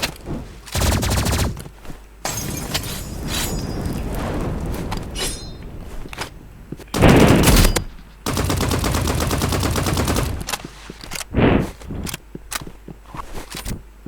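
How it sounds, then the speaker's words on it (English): Energy pistols fire in a video game in bursts of loud, close shots separated by short gaps, with rapid repeated blasts, some longer sustained volleys and sharp single hits near the end. "The energy pistols are too overpowered."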